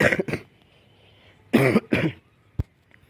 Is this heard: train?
no